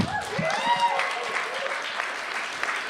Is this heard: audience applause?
yes